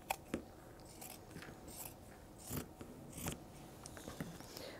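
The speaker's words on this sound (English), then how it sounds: "we're going to just cut off that neckline." Scissors cutting the neckline off a T-shirt, with a quiet run of close, crisp snips spaced irregularly at low volume.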